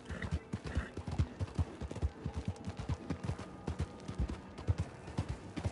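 A horse gallops in Red Dead Redemption 2, its hooves pounding in a fast, even rhythm close up, with faint gunfire-like cracks mixed into the hoofbeats.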